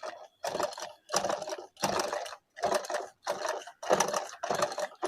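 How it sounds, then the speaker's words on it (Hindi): A sewing machine with a fault that skips stitches runs in eight short whirring bursts separated by brief pauses. It sounds close, fairly quiet and mechanical, with no talk. "बीच बीच में सिलाई छोड़ जाती है हमारी मशीन"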